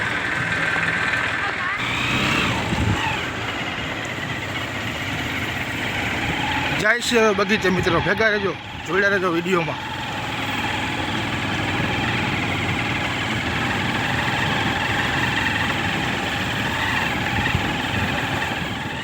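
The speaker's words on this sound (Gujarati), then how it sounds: "આપણું ટ્રેક્ટર આવી ગયું છે" A tractor engine idles and rumbles steadily in a Kesar mango orchard, a continuous low drone heard beneath someone talking.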